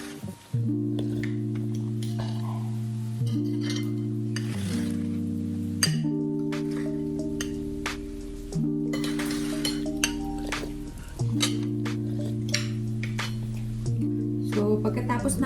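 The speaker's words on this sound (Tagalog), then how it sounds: "So, pagkatapos namin kumain, kailangan ko maghugas ng pinggan." Plates and dishes clink intermittently while being washed up after a meal, sharp little knocks of crockery sitting over a steady, loud droning tone.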